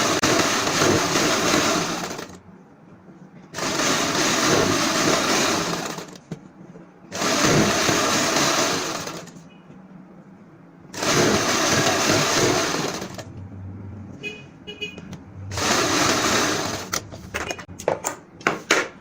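A sewing machine stitching salwar fabric runs in four loud bursts of steady whirring, each lasting a couple of seconds, separated by quiet pauses with small clicks and handling noises, close up and without talk.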